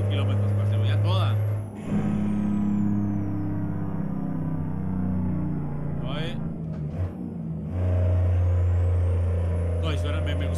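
Truck engine in the American Truck Simulator game, a double-trailer rig running at speed, with a loud low steady drone that dips briefly and swells again, under continuous talk.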